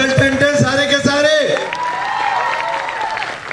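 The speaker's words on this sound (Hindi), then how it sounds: "दोस्तों ये क्रूज है, जोरदार तालियां इसके लिए।" Loud, dense applause and cheering from an audience of Modicare consultants in a cruise ship auditorium, a sustained wash of clapping with voices mixed in.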